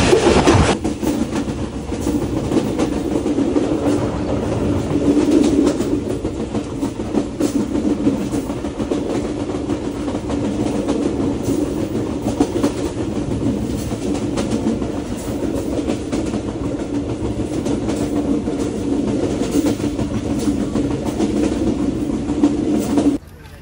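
Rupsha Express, a Bangladeshi passenger train, running on rails with a steady rumble and rhythmic clickety-clack heard from inside a carriage, continuous and loud throughout with no talk.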